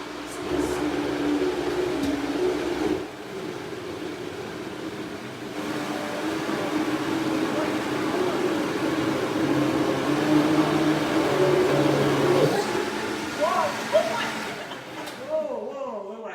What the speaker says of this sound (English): And do you need a powerful blender to do this?